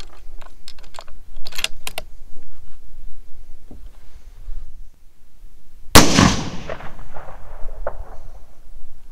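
A Bergara B14 HMR rifle in 6.5 Creedmoor fires one loud, close shot outdoors with a sharp crack and decaying echo, preceded by faint clicks and handling noise.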